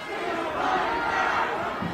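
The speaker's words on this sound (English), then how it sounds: "And then the whole crowd, like they're getting aggressive there" A large protesting crowd shouts and roars together in an aggressive, sustained wall of voices, loud and continuous with no single speaker standing out.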